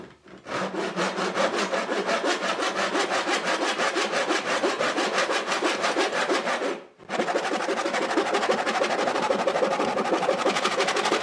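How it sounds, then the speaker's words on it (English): Hand saw cutting wider wood pieces in an adjustable miter box, fast rhythmic rasping strokes, loud and close, with a short pause before sawing resumes. "this adjustable miter box, well, let's see if I can cut this wider pieces"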